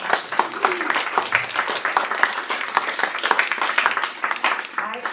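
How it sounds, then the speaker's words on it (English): A community forum audience on low-cost housing breaks into a round of applause, many hands clapping steadily and fairly close, with a few voices mixed in under the sound. "Let's have one more round of applause."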